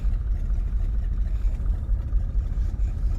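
A 1968 AMC Javelin, abandoned for 37 years, driving in first gear with its engine giving a low, steady, throbbing rumble that stays close and fairly loud, with no talking.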